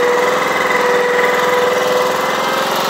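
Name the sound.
small loader engine revving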